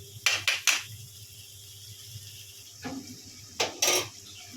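Curry being stirred in a cooking pot, a few scraping, clinking strokes of a utensil against the pot in two short bursts separated by a quiet pause, close and moderately loud.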